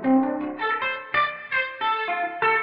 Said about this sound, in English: If you set the pedal like this and then you mute your guitar strings while you're playing, it kind of sounds like you're plucking the strings of a piano.